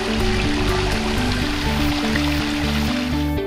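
A babbling brook runs steadily beside a backyard koi pond, giving a continuous close rush of water alone, with a faint low tonal hum layered underneath.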